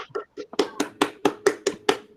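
A handful of sharp, close hand claps in an even rhythm, about nine in quick succession, starting unevenly then settling into a steady beat.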